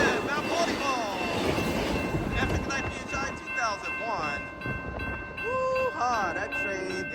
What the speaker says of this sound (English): This train is flying high speed.